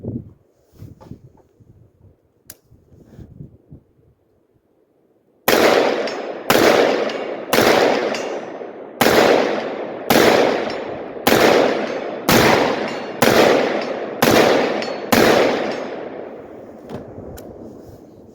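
A 5.56 rifle fitted with a shielded muzzle brake fires about eleven loud, sharp shots at a steady pace of roughly one per second after some quiet handling noise, each blast ringing out briefly.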